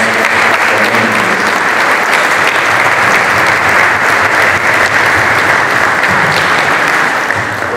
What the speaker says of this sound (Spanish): Les damos un aplauso a nuestros 4 ponentes.